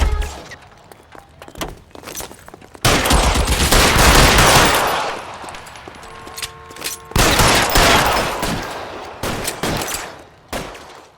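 Gunfire in the video game L.A. Noire, loud bursts of rapid automatic fire and volleys that start after a quiet stretch with footsteps, then rattle on in two long sustained stretches with brief pauses between.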